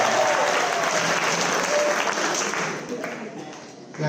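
A church congregation claps loudly and steadily for a few seconds, then the applause fades out toward the end.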